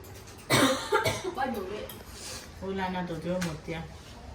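A few sharp coughs burst out close by, followed by people talking in a casual, conversational tone.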